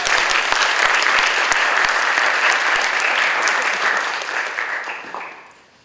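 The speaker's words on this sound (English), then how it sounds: "let us give a big round of applause to all members of the committee" A big round of applause from a conference audience at an Indonesian forum, dense steady clapping with a few sharp close claps, fading out over the final second.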